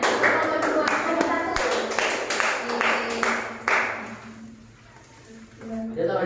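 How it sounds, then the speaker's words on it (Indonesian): Students in a classroom clap their hands in a burst of quick, uneven claps that fade out midway, with talking over and after the applause. "Ya, tepuk tangan"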